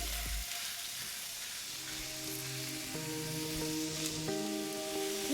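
Pork sizzling on a hot Blackstone griddle, a constant, close frying hiss with faint tonal whine in the background and nobody speaking.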